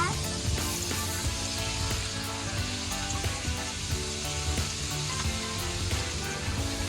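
Pieces of salt-fried chicken crackle and sizzle in plenty of hot oil, a dense, steady frying hiss running without pause at close range.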